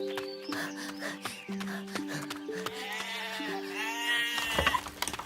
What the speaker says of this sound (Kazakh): Мұхан, қорадағы қойларды өріске айдаңдар.